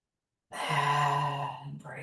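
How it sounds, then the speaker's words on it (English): A deep, sustained inhale during a guided yoga breathing exercise, a breathy voiced sigh-like rush of air lasting over a second, close and clear, with a brief shift near the end. "Breathing in."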